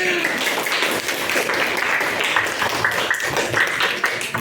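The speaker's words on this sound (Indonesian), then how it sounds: "Kasih tepuk tangan" Classroom audience in an Indonesian teacher-training session claps after an answer, a continuous crisp patter of many hands close by, with voices mixed in underneath.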